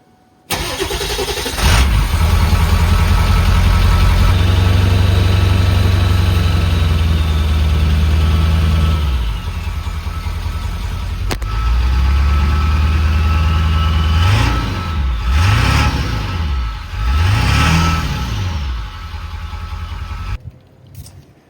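A loud, low engine of an old International tractor idles steadily, drops briefly and settles, then revs in three rising-and-falling bursts near the end before cutting off.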